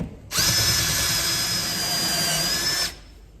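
A power drill runs steadily for about two and a half seconds, widening an outer hole in cosmetic sheet metal while fitting a ladder tire carrier, with a high whine over a gritty buzz and no talking.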